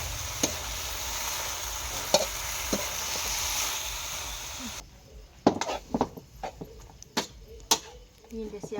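Pork and Chinese kale stir-fried in a pan give a steady sizzle for several seconds, then quieter scraping and clattering stirs with sharp utensil knocks, and people talk softly over the cooking.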